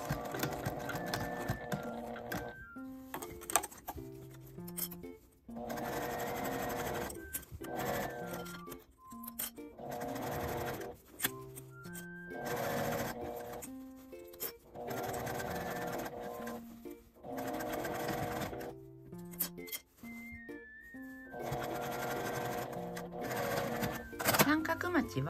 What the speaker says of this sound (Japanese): 先のところは返し縫いをします。